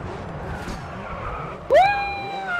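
Car in the racing game GRID 2 braking hard, with engine noise giving way to a sudden loud tire squeal that rises sharply and then holds a sustained skidding whine.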